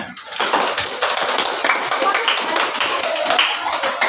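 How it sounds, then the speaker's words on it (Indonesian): Classroom applause from a group of students, a dense patter of hand claps running steadily for about four seconds at close range, with some voices mixed in. "Oke, tepuk tangan."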